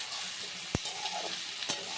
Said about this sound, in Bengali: আলুটাও মশলাগুলোর সাথে ভালো করে কষিয়ে নিতে হবে